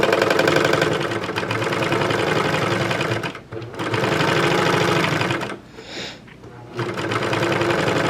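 A serger running with four threads finishes the seams of a skirt in loud, close, fast mechanical whirring bursts, with two short pauses where the machine stops before starting again.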